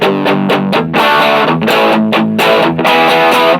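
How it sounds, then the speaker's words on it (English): Electric guitar played with heavy overdrive through a Lekato Pogolab mini amp with the gain pushed fully up, loud sustained chords struck in a steady rhythm with brief gaps, alone without talk. "It feels like more of an overdrive than a distortion because it's not, you can't get a super chuggy sound out of this."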